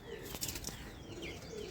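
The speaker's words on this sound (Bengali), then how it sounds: "এই যে দেশি পায়রা দেখুন বন্ধুরা" A desi pigeon coos softly in a brief, close call, with a few faint chirps mixed in.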